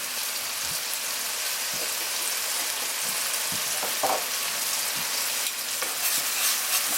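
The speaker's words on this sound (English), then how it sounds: "So we're gonna cook our spices, let it cook, and then incorporate it." Spices and dried savory sizzle and fry in a pan for a vegan nopales curry, a steady crackling hiss throughout with occasional soft stirring knocks, close and without talk.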